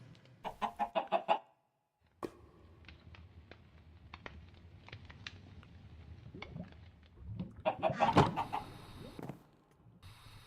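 Chickens in the game Minecraft, played in the All the Mods 10 modpack, give a quick burst of clucking, then a pause, then a louder flurry of clucks and squawks near the end, with faint clicks and thumps between.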